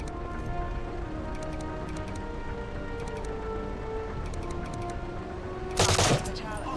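Gunfire in the tactical espionage game Phantom Doctrine: a short, loud burst of shots near the end, cutting sharply above a steady, dense layer of game ambience and music.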